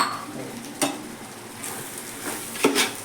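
A mutton biryani mixture with curd being stirred in a pot, giving a soft, steady scraping and low sizzle with a few sharp spoon knocks against the pot.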